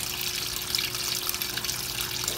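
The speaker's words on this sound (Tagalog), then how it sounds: "release na siya ng tubig" Water pours steadily into the drum of a Whirlpool 7.8 kg automatic washing machine as it fills, a constant splashing rush with a low motor hum beneath and no voices.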